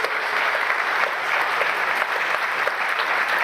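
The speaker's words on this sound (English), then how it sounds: "On peut applaudir, s'il vous plaît" Continuous crowd applause at an award ceremony, even and dense throughout, a full room clapping with no speech on top.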